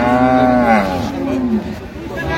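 A dairy cow with her calf gives one long, loud moo that slides downward in pitch, close by at a cattle market, followed by quieter background noise.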